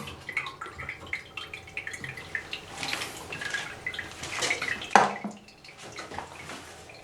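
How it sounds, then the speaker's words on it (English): Kohler toilet with a Fluidmaster fill valve flushing and refilling, steady hiss of running water with drips and gurgles, close and moderately quiet, one sharper splash midway. "So let it flush for like half a minute or so."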